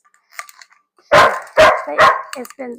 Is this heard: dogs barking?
yes